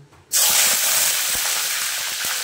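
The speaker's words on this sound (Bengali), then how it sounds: "বন্ধুরা ফুলকপি ভাজার জন্য তেল দেওয়া হলো" Cauliflower drops into hot oil in a pan, setting off a loud, sudden hiss of frying that stays steady and strong with no talk over it.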